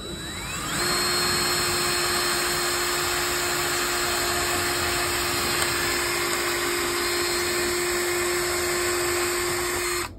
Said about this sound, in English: I'm going to go ahead and take my drill, go nice and slow, and make a hole.